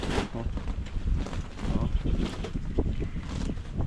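Very strong wind roars and buffets the microphone outdoors in steady, rumbling gusts with no voices.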